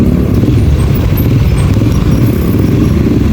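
Road traffic crawls along Shaw Boulevard in a long midday jam, a loud, continuous low rumble of car, motorcycle and truck engines close by with no pause.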